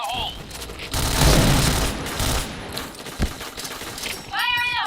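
Grenade blasts and bursts of gunfire in the shooter video game PointBlank, with a heavy explosion followed by rapid shots and game effects, and game voice lines heard at the start and end.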